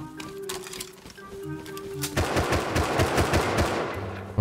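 Rapid bursts of gunfire from the survival video game Rust, first scattered shots and then a dense, loud stretch of repeated automatic fire close by, with no talking.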